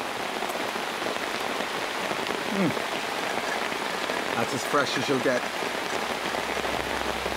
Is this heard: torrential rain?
yes